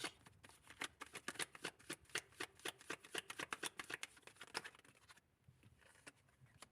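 Tarot cards shuffled and drawn by hand: a quick, uneven run of crisp flicks and slaps, close and fairly quiet, stopping briefly before a few softer handling sounds, with no talking.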